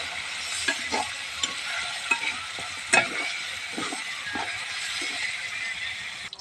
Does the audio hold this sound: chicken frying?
yes